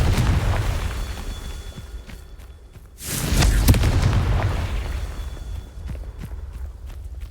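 A Confringo fire spell in Hogwarts Legacy lands as a heavy booming blast about three seconds in, rising out of quieter game ambience and footstep-like shuffles, then rumbling and fading over several seconds.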